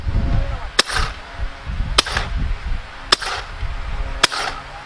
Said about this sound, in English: we're going to go ahead and shoot over the chronograph here